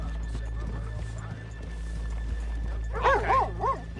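Horses in the video game Red Dead Redemption 2 give a loud, wavering neigh near the end, after a stretch of soft hoof clip-clop and low game ambience with faint voices in the background.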